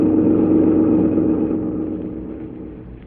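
A car driving along, heard as a steady engine drone in an old 1940s radio drama, loud at first and slowly fading away over a few seconds with no voices over it.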